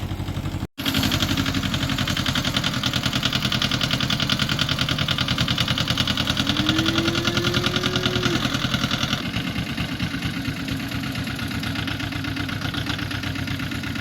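A tractor engine running outside in a muddy garden on a chilly morning, a steady mid-low idling chug close by and unbroken after a brief cut at the start.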